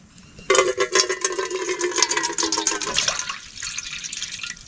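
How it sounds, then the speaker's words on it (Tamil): Water pours steadily into a pot for a few seconds, a bright splashing rush that starts abruptly and tapers off, with no voices. "தண்ணி ஊற்றியாச்சு."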